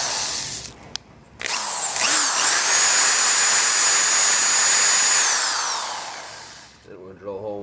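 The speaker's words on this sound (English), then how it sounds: "So we're going to drill a hole in the top." A power drill whines loudly and steadily for several seconds after a couple of brief starts, then winds down; faint voices at the end.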